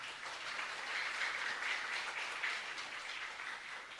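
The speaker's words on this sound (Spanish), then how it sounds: "Para ellos un fuerte aplauso." A congregation at a live Holy Mass in a chapel gives sustained, even applause, a faint and distant wash of clapping with no pauses across the whole span.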